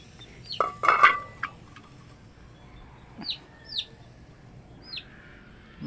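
Chickens and chicks cluck and peep close by, a few clucks followed by short high chirps spaced a second or so apart, with a light clink of dishes early on.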